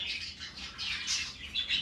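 Pair of pet pigeons calling in soft, continuous chirps and coos, fairly faint and steady throughout with no talking.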